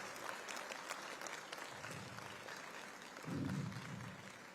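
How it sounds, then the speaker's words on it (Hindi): An audience at an award ceremony honouring students applauds steadily and faintly from a distance, a soft continuous patter that swells briefly near the end. "तालियां और उत्साह में कोई कमी नहीं आए"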